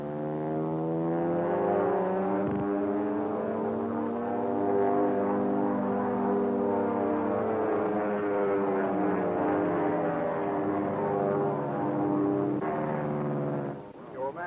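Steady droning engine of a propeller airplane on a test flight in a 1936 film soundtrack, loud and continuous with a sustained hum that barely varies.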